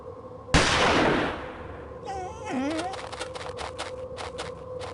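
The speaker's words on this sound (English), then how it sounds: "The gunshot seems to have frightened him off." A single loud, sharp gunshot cracks in the Murder on the Orient Express adventure game and rings out briefly, followed by quieter whining and rustling sounds afterward.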